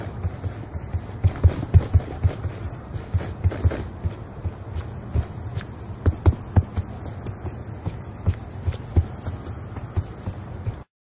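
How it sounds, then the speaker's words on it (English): Enemy footsteps in Black Ops 2, heard first without and then with the Awareness perk, as a steady run of soft, thudding steps in irregular clusters across the whole stretch, with no talking over them. "awareness doesn't necessarily increase the volume of the footsteps, instead it changes the tone to a much more distinctive and higher pitched tone"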